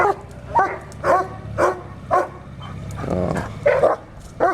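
Dogs barking excitedly at a newly arrived machine, several loud sharp barks in a rough rhythm with a few yips and whimpers between them, close by and with no talk.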